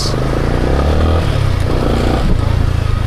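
A motorcycle engine revs up close and loud, a steady thick rumble with clattering mechanical noise running throughout.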